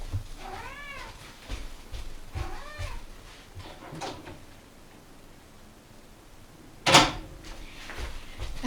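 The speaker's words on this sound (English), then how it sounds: "I don't know if you hear my cat, but she wants to get out." A house cat meows a few times in short plaintive calls, wanting to be let out, heard faintly in a quiet indoor room, followed by a sharp sudden knock or bump.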